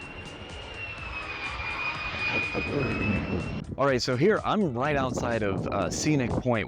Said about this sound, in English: really is the sound of F-35s flying overhead